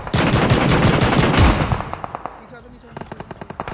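Rapid automatic gunfire from PUBG Mobile, a dense loud burst of shots at first, then thinning into separate sharp cracks and short spaced volleys toward the end.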